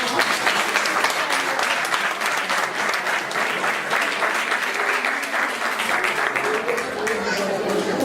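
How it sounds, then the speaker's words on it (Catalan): Audience applause at a Christmas children's concert in Benicarló, a steady full round of clapping that holds throughout at an even level, with faint voices underneath. "un aplaudiment"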